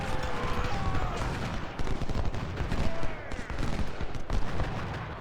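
Confederate 24-pounder siege guns in the Ultimate General: Civil War battle at Chickamauga fire in a dense, continuous barrage, with heavy booms layered over rolling musketry and battlefield din.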